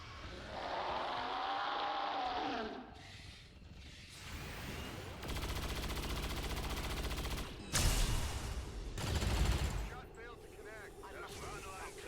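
Soldiers open fire in XCOM 2, a chaotic mix of rapid gunfire bursts and booming shots broken by brief lulls, moderately loud, with game effects layered between the volleys.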